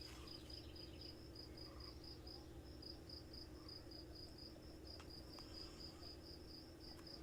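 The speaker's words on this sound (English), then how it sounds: "And other than hearing the crickets in your house" Crickets chirping outside and heard indoors through an open window, a soft, steady train of high, rapid trills repeating throughout over a low room hum, with no voices.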